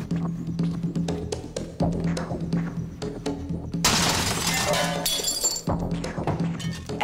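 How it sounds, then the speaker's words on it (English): A barbed poker punches through bedroom window glass: a loud burst of shattering glass after quieter knocks and clinks, followed by a few falling shards tinkling. "I'm going to take a poker and punch through this glass, and we're going to see which way it falls."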